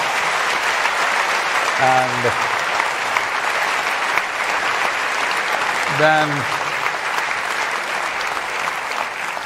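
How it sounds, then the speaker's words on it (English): A large crowd applauds at a live Save Soil conversation event, dense sustained clapping filling the whole stretch, with a voice speaking briefly over it twice. "you clap for too long"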